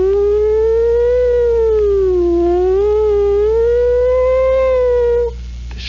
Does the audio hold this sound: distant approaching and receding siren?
yes